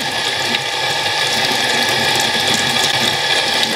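Steady rushing water runs and splashes close by while a makeup brush is rinsed, with faint scrubbing and clicking under it and no talking.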